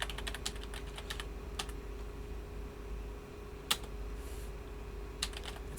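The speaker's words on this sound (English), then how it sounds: "let's type in the following command." A command is typed on a computer keyboard in short, quick bursts of clicking keystrokes with brief gaps, close and quiet over a faint background hum.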